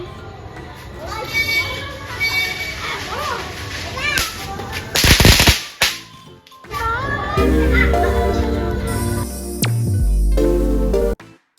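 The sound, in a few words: firecrackers bursting during Durga Puja Navami night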